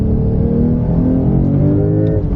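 A new Porsche 911 Sport Classic with a manual gearbox, its engine held at a loud, steady throttle, a dense rumbling drone with a faint rise in pitch, heard close from inside the car.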